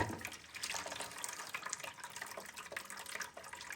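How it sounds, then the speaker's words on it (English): Water draining and siphoning out of a Kinetico water softener pre-filter housing, a steady close trickle and splash that runs without a break and goes on alone. "Should be able to see that water kind of draining and siphoning out of that filter housing there."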